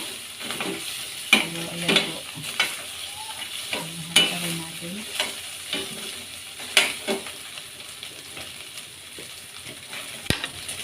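Onion and garlic sauté in hot cooking oil with pre-boiled meat for guisadong canton, a steady sizzle broken by repeated sharp clacks and scrapes of a utensil stirring in the pan, close and fairly loud, with no talking.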